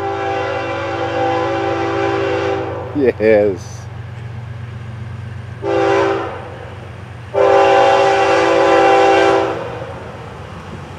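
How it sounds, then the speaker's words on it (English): FEC 109, a morning freight train, sounds its horn in repeated loud blasts over a steady rumble of rolling rail cars, with a brief voice in between. "As we await FEC's 109, the morning train."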